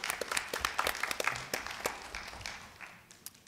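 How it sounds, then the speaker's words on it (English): Applause from the audience at a school board meeting, a fairly faint crowd of hands clapping with scattered louder claps, thinning out and fading toward the end. "if we could have a round of applause"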